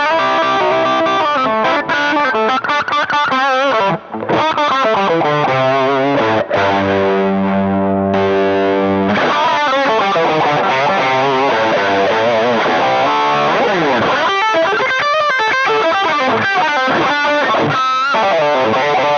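Electric guitar played through a Zapped Up Yours distortion pedal, loud saturated chords and sustained notes with a brief pause, followed by busier riffing and bends, alone without talk.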